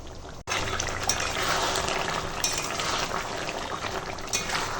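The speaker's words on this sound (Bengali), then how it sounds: "ওর জন্য একটু সামান্য জল দিলাম একটু ফুটিয়ে নেবো" A little water is poured into a pan of cooking chicken necks, liver and tomato, a continuous trickling wash of liquid with faint clinks, close and steady throughout.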